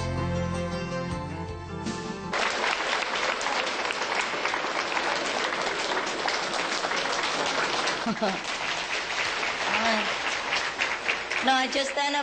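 An audience breaks into sustained, loud applause for a spiritual talk, clapping densely and evenly for several seconds before it tapers off, with a brief stretch of music or sound at the very start.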